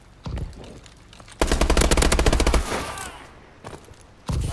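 Rapid automatic gunfire in a capture-the-flag video game, a dense burst of about a second followed by scattered single shots and a fresh burst at the end, all loud and close.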